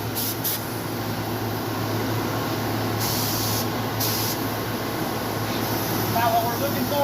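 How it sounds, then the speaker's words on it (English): A spray gun hisses in short bursts as sandstone toner is test-sprayed onto a piece of cardboard, the sharp airy blasts starting and stopping over a steady background hum. "I always test my pattern on a piece of cardboard before I spray my part"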